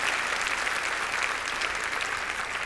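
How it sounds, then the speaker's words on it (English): Audience at a board of directors event applauding loudly and continuously, dense clapping filling the room throughout with no speech over it. "if you would give me a round of applause"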